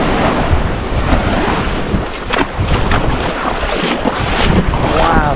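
Ocean waves wash in at Thomas Beach in Bali, a loud, continuous rushing surf with swelling breakers, heavy wind buffeting the microphone close by, and no talking.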